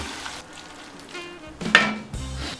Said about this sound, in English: Add our spinach to the mix. Stir fry.